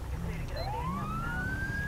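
Federal Signal Delta police siren in Grand Theft Auto V (LSPDFR), a single steady rising wail sweeping upward over a constant low engine rumble, close and continuous.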